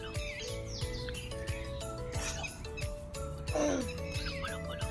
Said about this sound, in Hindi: यहाँ इतने पंछी हैं, उनकी आवाज़ें